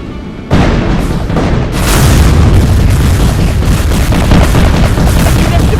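A powerful auto cannon in Roblox Build a Boat for Treasure fires continuously, its loud booming bursts overlapping into a dense, sustained barrage that starts abruptly and barely lets up.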